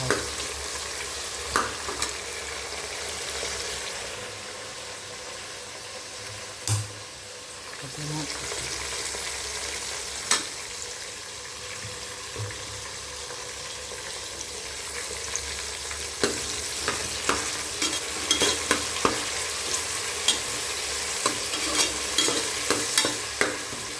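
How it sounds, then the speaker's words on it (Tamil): Chicken sizzles and fries in a hot pan for chicken biryani, with a steady crackle throughout and repeated scraping clinks as it is stirred, the stirring growing busier toward the end. "வந்து சிக்கன் தாளிச்சிக்கலாம்"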